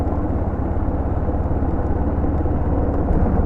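Buell or Yamaha 600XT motorcycle riding along a country road, a steady low engine drone with wind rush, continuous and fairly loud throughout.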